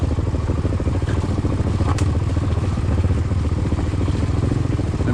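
A motorcycle rolls in first gear down a slippery, leaf-covered descent on an off-road trail, its engine a steady, close drone with constant mechanical clatter.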